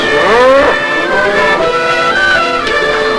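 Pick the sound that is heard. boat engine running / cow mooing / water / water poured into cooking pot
cow mooing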